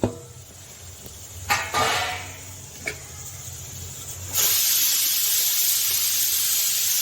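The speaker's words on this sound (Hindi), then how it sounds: "ये हमारी कुकर की सीटी हो रही है।" A loud, steady hiss of steam from a pressure cooker whistle, cooking mutton curry, starts partway through and continues without a break, after a quieter stretch broken by a few soft knocks.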